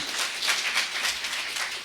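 A church congregation in Lircay, Huancavelica, clapping for Jesus, a steady crowd of hand claps with no clear individual beats, moderately loud.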